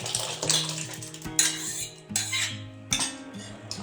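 Cooked moong dal going into a pan for Udupi-style rasam, with several sharp metal clinks of a spoon against the vessel and faint sizzling between them, close and clear.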